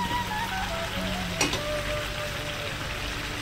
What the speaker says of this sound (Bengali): আলুগুলো দিয়েও আমি ভালো করে একবার মিশিয়ে নেবো, ভালো করে সঙ্গে কষিয়ে নেবো 5 মিনিটের জন্যে